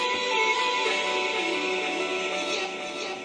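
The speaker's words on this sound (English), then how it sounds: "If you run a delay on it," A dense, bright musical loop smeared by repeating echoes, a steady wash of tones trailing into one another without pause; no voices.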